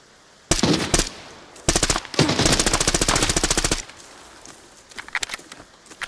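Gunfire in the Arena Breakout Infinite shooter game, loud close bursts of rapid automatic fire in several strings, then a quieter pause followed by a few scattered shots.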